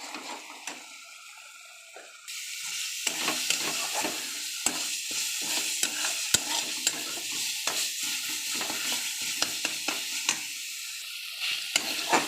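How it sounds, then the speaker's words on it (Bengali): Onion, ginger and garlic spice paste with turmeric fries in oil with bay leaves in a wok, stirred steadily, giving a close, continuous sizzle broken by repeated scraping clicks of the spoon. No one speaks. "এবার মশলাটা কষে নেব ভালো করে।"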